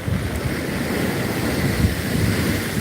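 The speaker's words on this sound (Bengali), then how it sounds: "বৃষ্টির সাথে সাথে দীঘার সেই ভয়ঙ্কর রূপে তেড়ে আসছে সমুদ্রের ঢেউগুলি" Steady roar of surf pounding the shore at Digha beach in the rain, mixed with gusty wind noise, loud and unbroken.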